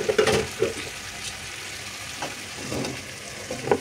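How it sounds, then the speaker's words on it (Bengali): Dhaba chicken frying on medium-low heat, a soft steady sizzle with occasional scrapes and taps of stirring in the pan, quiet and close. "যেহেতু আমি মিডিয়াম টু লো আঁচে ভাজছি, অত ভাজবো না, কষাবো।"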